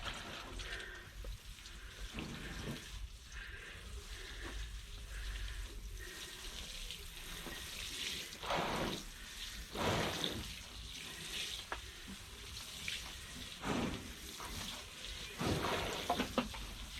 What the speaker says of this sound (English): And then I'm just going to water it.